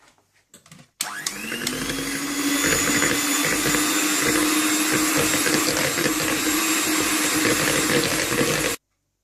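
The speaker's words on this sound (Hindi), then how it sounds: "चॉकलेट बटर क्रीम फ्रॉस्टिंग बनाने के लिए पहले आप मक्खन को बीट कर लें।" An electric mixer whirs steadily as it beats butter for chocolate buttercream frosting, starting abruptly after a second of quiet, running loud and constant, then cutting off near the end.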